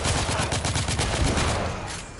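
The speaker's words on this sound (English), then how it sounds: "I'm under heavy fire!" Heavy, continuous gunfire in The Order 1886, a dense rattling barrage of rapid shots that stays loud throughout and eases off only slightly at the end, with no talking.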